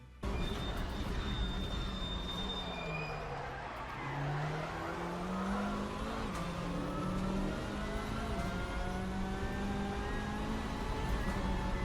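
A Hyundai Elantra TCR race car in Assetto Corsa at Pascani Motorpark revs hard, engine pitch dipping and climbing through gears with tyres squealing, a continuous loud drone under faint talk.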